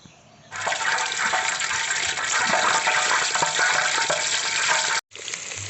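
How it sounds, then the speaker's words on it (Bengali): Chopped onions go into hot mustard oil for an Eid biryani, setting off a loud, steady sizzle that starts abruptly, runs close and continuous, then briefly drops out before resuming. "তেলের মধ্যে 2 কাপ পরিমাণ পেঁয়াজ কুচি দেব।"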